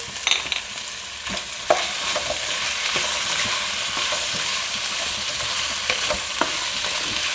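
A cinnamon piece, four cloves, black peppercorns and cumin fry in a pan for an arvi gosht curry, a steady close sizzle with faint stirring ticks throughout and no talking.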